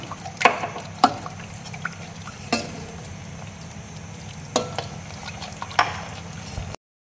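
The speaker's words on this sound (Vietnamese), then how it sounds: "Ở đây thì mình sẽ dùng thêm ít bột bắp, mình cho tí nước vô mình khuấy lên" A spoon stirs coconut milk mixed with cornstarch slurry in a pot, making about six distinct scraping strokes over a soft, quiet simmer before the sound cuts off.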